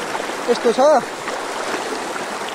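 Floodwater rushes down across a slippery footpath as a steady, close wash of noise, while a voice briefly speaks over it.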